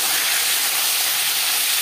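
Bata fish sliding into four spoons of hot refined oil, a loud, steady broadband sizzle and hiss filling the pan without pause and with no talking.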